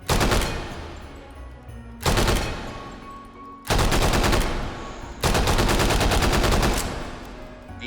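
Four sustained bursts of full-auto fire from an open-bolt submachine gun in the VR shooter H3VR, each a loud rapid rattle that fades before the next begins, with short gaps between bursts.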